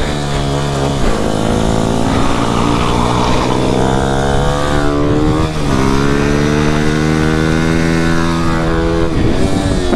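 Motorcycle engine revving hard and accelerating up close, loud rising harmonic whine that climbs, dips briefly and climbs again with the throttle, no talk over it.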